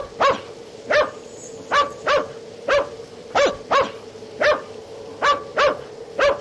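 A house dog barks steadily and fairly close, around a dozen sharp barks at regular intervals, with no talking over them.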